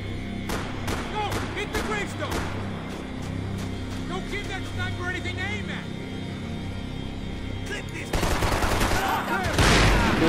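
Rapid bursts of gunfire in Max Payne 3, a dense string of shots mixed with game effects and character voices, ending in a louder, noisier stretch.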